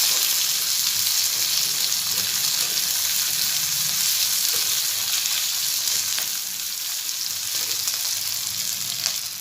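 Dried red chillies frying in hot oil in a pan for a calcium-rich chutney, a steady bright sizzle running without a break, close and fairly loud, with faint scraping of a spoon now and then.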